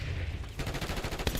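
Rapid gunfire from an enemy sniper in the Black Ops 6 video game, a dense burst of shots with a sharper crack near the end, steady and fairly close throughout the short stretch.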